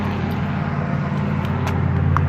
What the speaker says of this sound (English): you hear that truck again?